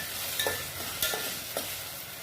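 Potato, onion, tomato and green chilli fry in a pan with a soft, steady sizzle, broken by a few scrapes and clinks as a spoon stirs the mixture, faint and close with no talking.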